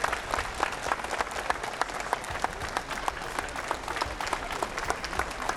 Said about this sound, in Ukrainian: Делегацію на чолі з президентом західні партнери зустріли оплесками